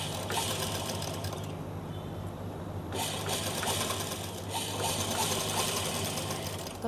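A sewing machine runs steadily, stitching the neck and armhole of a child's top made from leftover fabric, with a dense mechanical whir lasting throughout and brief shifts in pace.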